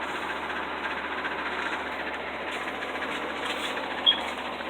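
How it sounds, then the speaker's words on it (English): A household electric fan runs in a basement as steady, broadband airflow noise, constant and unbroken, with a brief faint click near the end. "I've got one of my many fans blowing"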